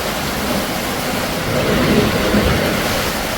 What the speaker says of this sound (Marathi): आमच्याकडे पाऊस बघा आता संध्याकाळी एवढा जोरात आलेला ना भरपूर